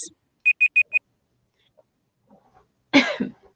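A writing-sprint timer beeps four times in quick, evenly spaced succession, clear and fairly close, followed after a pause by a brief cough or throat-clearing burst.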